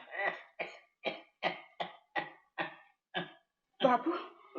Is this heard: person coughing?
yes